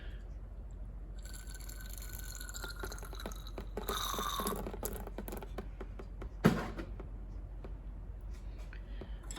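Water rinses over a stuck brake caliper pin from a 1994-1996 Chevy Impala SS or Caprice 9C1, dripping and pattering in quiet, close bursts with a brief louder splash near the end.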